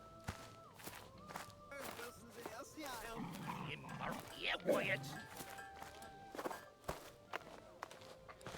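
A dog barks in the Bandit Simulator video game, several short barks and yips mixed with footsteps, while someone talks over the game sounds.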